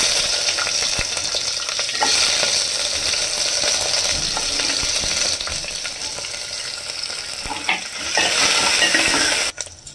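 Onions tossed into a hot pan for Andhra-style gatti pappulusu crackle and sizzle steadily alongside fried chillies, with a stir or two and a brief metallic clatter near the end; no one speaks.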